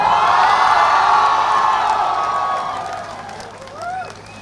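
Audience at a trailer launch event cheering, whooping and clapping loudly at first, the crowd noise fading over several seconds, with shouts and a few voices rising near the end.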